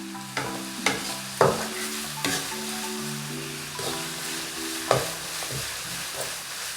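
Sliced onions with half a teaspoon of salt sautéing in a pan for a Kerala-style beef fry, steady close sizzle broken by a series of loud spatula scrapes and stirs at an irregular rhythm, with a faint tonal hum underneath and no talking.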